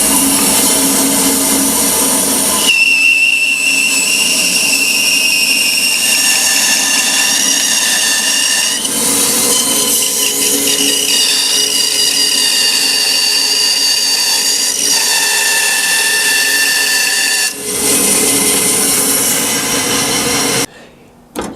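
A band saw running with its blade cutting through a workpiece in a shop, a loud, steady whine and buzz with shifting tone over about fifteen seconds, the motor continuing alone before winding down.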